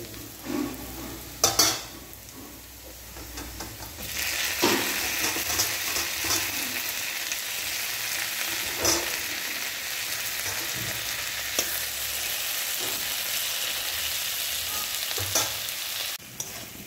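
Chopped tomatoes frying in hot oil on top of already fried onion, a steady close sizzle with periodic scraping and stirring strokes of a utensil in the pan, no talk.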